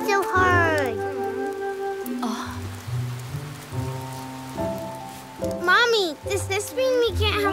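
Steady rain patters in the background beneath bright music and a high-pitched voice speaking.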